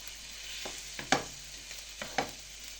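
A quiet, steady sizzle of pâté melting in a frying pan, broken by a few light scraping and tapping sounds of stirring.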